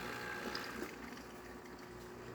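A Jura Impressa A9 coffee machine rinses its mill system, giving a steady, continuous hiss and trickle of water running through and out of the spout at close range, with no talk.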